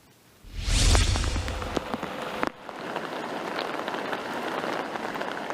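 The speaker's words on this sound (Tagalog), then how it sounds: "Malakas na ulan at matinding ragasan ng tubig." Heavy rain pours down in a dense, steady hiss, with a loud whooshing gust near the start and scattered drops spattering close by, in Cagayan, Philippines, with floodwater rushing.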